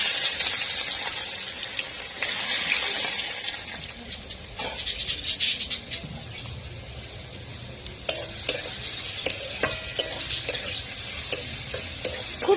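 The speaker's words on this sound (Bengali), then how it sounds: "ফোড়নটা একটু ভাজা হলে এবার এর মধ্যে আমি কুচানো পেঁয়াজগুলো দিয়ে দিচ্ছি।" Chopped onions fry with cumin seeds in a pan over a wood fire for chicken curry, giving a steady sizzle with scraping stirs and sharp crackles later on, with no voices heard.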